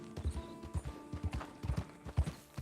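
A horse in the Red Dead Redemption 2 video game clip-clops along at a quick, uneven gait, hooves thudding in close, rapid bunches over a faint background.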